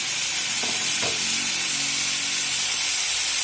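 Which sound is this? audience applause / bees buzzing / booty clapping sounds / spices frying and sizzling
spices frying and sizzling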